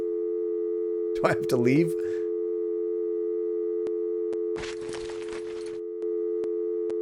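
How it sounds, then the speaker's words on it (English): A steady telephone busy-signal tone plays continuously in the Gabriel Knight: Sins of the Fathers game, a sustained hum with faint periodic clicks, while someone briefly speaks over it and a short noisy burst passes midway. "Why is there a phone sound?"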